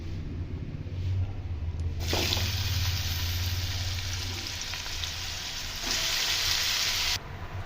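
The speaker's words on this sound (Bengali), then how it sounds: "তেলটা গরম হয়ে গেলে মাশরুমটা আমি দিয়ে" Mushrooms dropped into four spoons of hot oil burst into a loud, steady sizzle that swells sharply and holds, continuous frying hiss close by with no talk.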